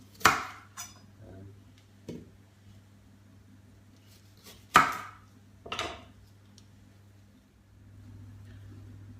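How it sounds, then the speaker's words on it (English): A knife cuts the bottoms off Brussels sprouts on a board in a home kitchen: a few sharp, sparse chops and trims over a steady low hum in a quiet room. "I'm just going to take off the outer leaves, save them for the rabbits, and just cut off the bottom"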